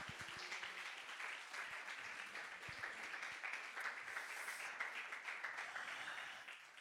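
A church congregation applauds, sustained dense clapping with a bright, even texture holding steady for several seconds, fairly distant and without distinct talk.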